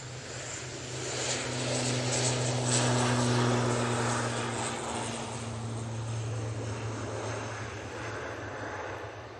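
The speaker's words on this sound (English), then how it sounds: "We've got a prop coming in and we've got a prop going out" A Loganair propeller airliner departs Manchester Airport, its engines droning steadily with a low tonal hum that swells and then slowly eases, heard alone at moderate distance.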